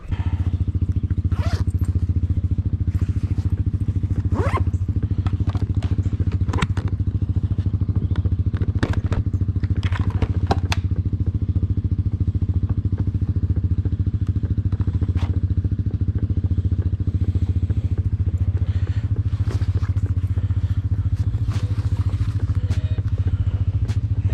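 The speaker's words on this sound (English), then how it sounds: "So let's go take the motorcycle for a ride to 2 beaches." A Yamaha XT 250 motorcycle engine runs steadily and loudly throughout, with occasional clatters and thumps from the ride, and no one speaking.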